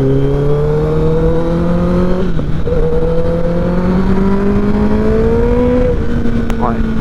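A Kawasaki ZX10R sport motorcycle, previously crashed, revs on an open road, its engine note climbing steadily, dropping briefly twice as it shifts, then rising again, loud and close.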